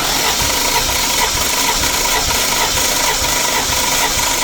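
A Toyota Supra Mk3 with a 1JZ-GTE engine cranks over steadily on the starter during a compression test, a loud, continuous mechanical churn with a faint rhythmic pulse running for several seconds without pause.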